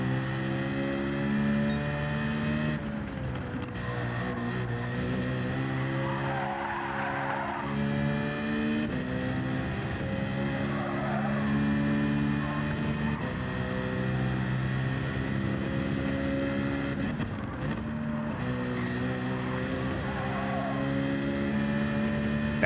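Race car in Gran Turismo 7 lapping a circuit, a loud continuous engine drone rising and falling through gear changes, with repeated braking and bursts of tire squeal through the corners.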